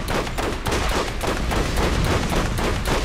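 Rapid bursts of gunfire in the video game Borderlands, loud and dense, with repeated shots blending into a continuous barrage across the whole stretch.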